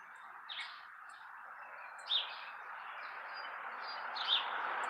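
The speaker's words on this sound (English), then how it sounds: "the starlings just like to make noises. They sound like little ducks." Faint, distant starling calls over steady outdoor background noise, with a few short chirps standing out near the start, middle and end.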